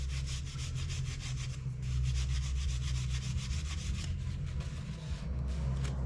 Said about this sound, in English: Here, brass brush.